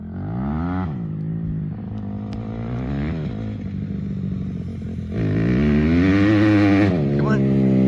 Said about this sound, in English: I hear motorcycle action.